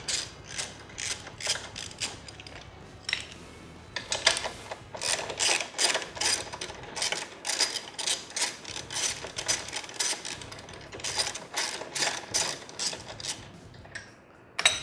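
A ratchet on fuel tank bolts of a 2013 Harley Davidson, rapid repeated clicking in short bursts, close and fairly quiet, with brief pauses between strokes.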